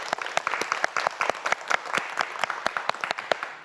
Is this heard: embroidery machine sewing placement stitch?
no